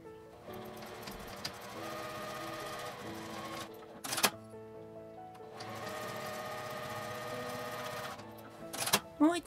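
An electric sewing machine stitches vertical lines through fabric to form card pocket dividers, running in two steady whirring bursts, each ending in a sharp mechanical clack.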